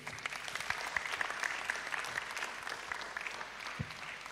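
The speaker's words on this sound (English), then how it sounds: "a round of applause for him" An audience at a church hangout gathering gives a presenter a round of applause, a continuous, evenly textured patter of many hands at moderate loudness.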